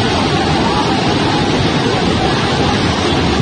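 Fast-flowing river water roars as a dense, continuous rush, loud and close, with no talking.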